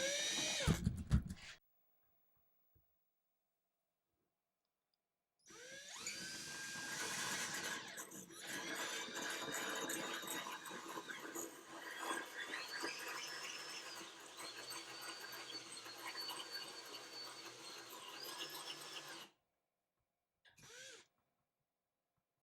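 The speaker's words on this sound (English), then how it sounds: "I'm going to start out trying a cordless drill." A cordless drill fitted with a tile hole saw grinds into wetted tile, a long, steady whining cut preceded and followed by brief handling noises and short bursts of the drill, fairly quiet overall, with no voices.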